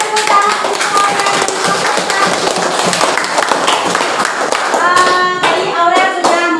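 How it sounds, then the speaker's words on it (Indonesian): A classroom of students claps for a classmate, sharp close hand claps ringing out continuously with raised young voices calling over them and swelling toward the end. "tepuk tangan untuk Aurel"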